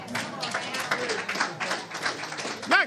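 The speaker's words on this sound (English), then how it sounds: "Clap for the word, man." A congregation claps during a sermon in a scattered, uneven round of applause, with people calling out and talking over the claps.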